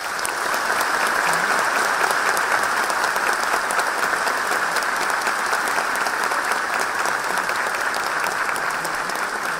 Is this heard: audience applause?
yes